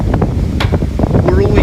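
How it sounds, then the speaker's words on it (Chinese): Strong wind buffets the microphone in loud, roaring gusts outdoors during a road trip toward Tibet, with a voice speaking briefly under the noise. "风太大了"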